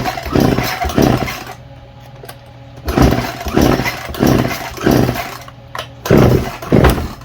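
A chainsaw being pull-started on a bench: a run of loud, close pulls, each giving a short rasping burst of the recoil starter and engine turning over, separated by brief pauses.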